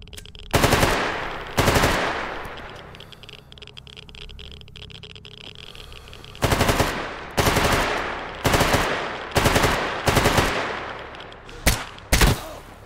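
Automatic gunfire in S.T.A.L.K.E.R. Anomaly GAMMA rings out in loud, close bursts of rapid shots, several separate volleys with short pauses between them and a quieter background in the middle stretch.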